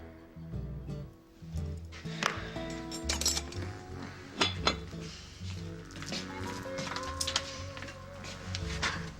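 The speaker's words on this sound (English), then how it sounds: "I need you to pick this pot up and help me to put it in the oven" A heavy cooking pot being handled and set into an oven, a series of metallic clanks, clinks and scrapes in an uneven rhythm, close and fairly loud with a hum in the background.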